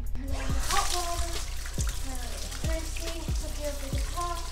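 Hot water pours from a tap into a small bathtub at home, a continuous splashing rush with intermittent drips and knocks throughout.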